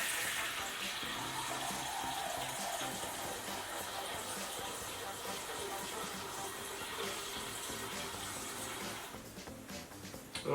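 Water pours steadily into a container to make a fish-smoking brine of a gallon of water and a bag of brine mix, a continuous gushing fill heard up close that eases near the end.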